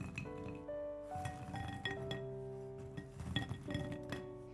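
Crisp chinks and clinks of home-fried dough snacks, golden small fruit-shaped treats made from flour, dropping onto a plate, several close light taps and rattles in quick succession without voices.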